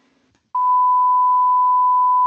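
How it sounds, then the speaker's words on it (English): A pure 1000 hertz sine wave tone starts abruptly after a brief quiet moment and holds loud and perfectly steady, with no variation, until the end. "this is a 1000 hertz frequency"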